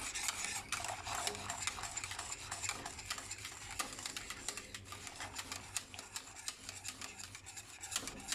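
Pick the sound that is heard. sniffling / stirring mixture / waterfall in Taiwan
stirring mixture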